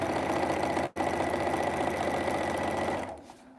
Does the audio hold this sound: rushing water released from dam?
no